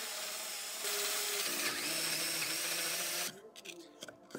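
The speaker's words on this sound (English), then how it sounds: "Drilling this hole took an insane amount of time, because I think my hole saw was just cheap." A cheap hole saw on a power drill grinds through wood in a steady loud whine that shifts pitch partway through, then cuts out into a few scraping, knocking handling sounds.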